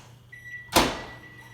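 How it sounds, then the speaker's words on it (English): A microwave oven heats a covered plate of food. A steady electric hum starts, then a sharp thump and a rushing swell follow and fade. "And I'm going to microwave it for 1 minute."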